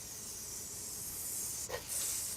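Steady broadband hiss and crackle of bacon frying on a hot 17-inch reversible griddle, continuous and close, with a brief louder burst near the end.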